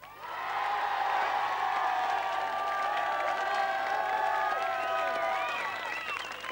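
Studio audience on a 1991 French television show applauding and cheering as the guest singer is welcomed, a sustained crowd roar with clapping and whoops while music plays underneath.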